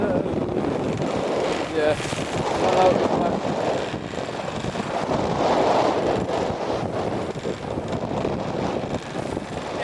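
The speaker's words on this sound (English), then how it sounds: "There's some pretty big seas here." Strong wind buffets the microphone aboard a sailboat in big seas off Britain, a continuous loud roar with rushing water and wave noise beneath, while a voice speaks briefly.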